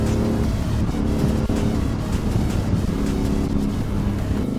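A 2008 Aprilia Shiver 750 motorcycle cruises steadily in sixth gear at about 3000 rpm, its engine hum a constant low drone mixed with heavy wind rush, heard from the rider's position.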